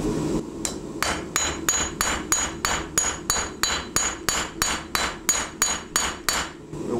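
A hammer forges knife steel on an anvil, ringing out a steady series of about fifteen sharp, bright metallic strikes at an even rhythm, close and loud, with no talking.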